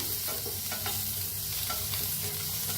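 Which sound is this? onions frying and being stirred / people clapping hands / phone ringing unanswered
onions frying and being stirred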